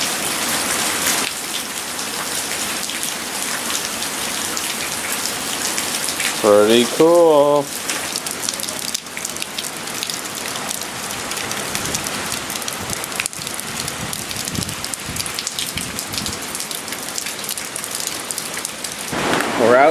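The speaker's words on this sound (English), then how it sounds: "I guess you can see a little bit of rain there." Heavy rain pours steadily in Apopka during Hurricane Irma at night, a dense constant hiss that fills the whole stretch, with a brief remark and a few faint background noises breaking through.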